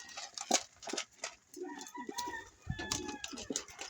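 Hungry racing pigeons being released from their loft before a training flight make soft coos and flutters, faint and close. A few sharp clucking calls and light rustles can be heard, with a murmur of voices around them.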